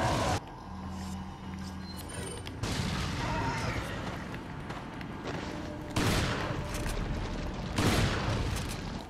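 Shotgun blasts in the video game Resident Evil 4, a few heavy booming shots spread across a dense, noisy game soundscape, loud and close.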